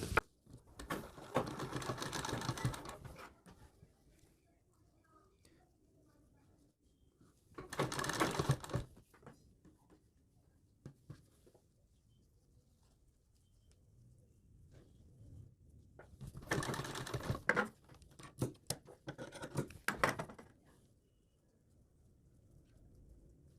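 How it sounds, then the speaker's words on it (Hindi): A sewing machine attaches piping to sleeve fabric in several short, quick bursts of rapid clattering stitches, separated by long quiet gaps with faint handling noises. "और अब यहाँ पे सिलाई लगाते हुए इनको ऐसे अटैच कर देंगे।"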